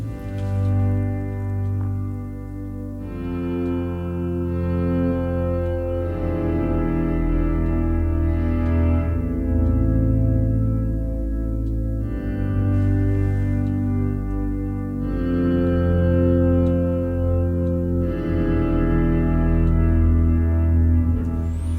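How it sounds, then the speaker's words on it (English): Sustained pads built from the Alicia's Keys electric piano by Native Instruments swell through a slow chord progression, each warm, layered chord ringing several seconds before the next, loud and alone without voices. "we can turn electric piano sounds into pads"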